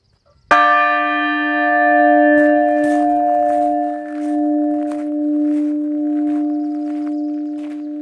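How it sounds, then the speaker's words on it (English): A single strike of a prayer bell, rung at a garden retreat, rings out loud and close, then hums with a long, steady resonant tone that slowly fades over several seconds. "So I'm just going to ring this bell of prayer and intention."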